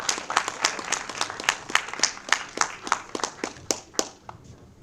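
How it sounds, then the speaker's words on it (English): Audience applause at the inauguration of an AICTE-sponsored faculty development programme on advanced cyber security, a room of people clapping steadily and briskly for several seconds with distinct hand claps, fairly close and unaccompanied by speech. "Let's give a big round of applause for the inauguration."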